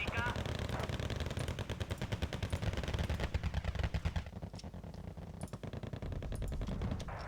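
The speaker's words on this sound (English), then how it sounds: "Could you drop napalm on that and join artillery in?" Napalm and artillery strikes in the war game Wargame Red Dragon, set in a second Korean War, come as dense rapid crackling bursts and rumbling fire that run on continuously.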